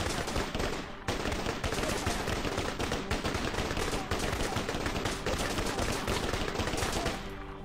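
Rapid, continuous gunfire from a gun in the sci-fi video game 2126 Starforge, loud and dense with heavy kick, sustained bursts filling the whole stretch and cutting off at the end.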